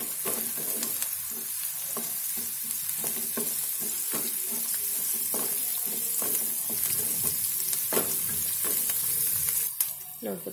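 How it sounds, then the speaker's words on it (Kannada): Onions fry in oil in a pan for beetroot palya, giving a steady close sizzle broken by repeated scrapes and taps of a stirring spoon, with no voices. "ನೋಡ್ಬೋದು ಈರುಳ್ಳಿ ಫ್ರೈ ಆಗ್ತಾ ಇದೆ"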